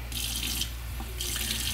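Water poured from a kitchen tap to make PEEPS marshmallow fondant, a close gushing stream in two bursts with a brief softer gap between; no speech.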